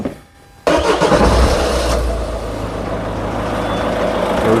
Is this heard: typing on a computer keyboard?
no